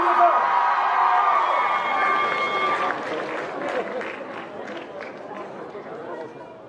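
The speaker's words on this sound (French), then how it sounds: "On applaudit encore." A crowd at a group performance event applauds and cheers loudly, with shouts and chatter mixed in, while a voice speaks over the start and the noise gradually fades.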